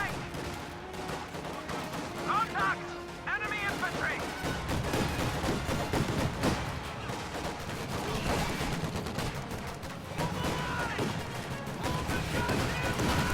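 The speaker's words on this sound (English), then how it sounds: "AA half-track is moving up to fire on these infantry here in the center" An AA half-track fires on infantry during a World War II strategy game battle, with rapid bursts of automatic gunfire and scattered explosions crackling continuously, while a commentator talks over the combat.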